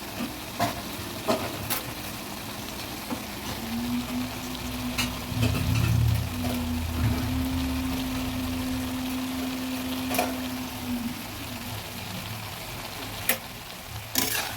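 Kechki fish go into a pan of frying flat beans and potatoes, a steady sizzle with stirring and occasional clinks of the utensil, close and continuous throughout.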